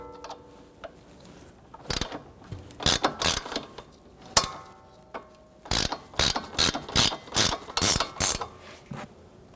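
A ratchet wrench with an 18mm socket clicks in quick bursts of strokes, tightening a sway bar link nut on a Jeep Renegade, loud and close with brief pauses between runs.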